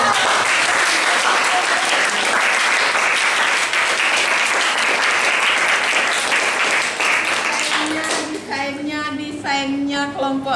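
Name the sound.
class applause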